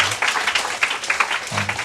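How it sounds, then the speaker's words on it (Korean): A church congregation at a summer retreat claps for testimony speakers, a brief burst of lively applause with quick, irregular claps and no talk over it. "우리 간증자들에게 한 번 더 우리 박수로"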